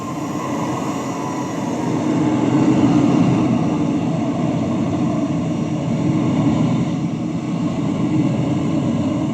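A simulated aircraft takes off in Microsoft Flight Simulator 2020: a loud, steady engine roar with a broad rumble that swells slightly midway and holds constant, no speech.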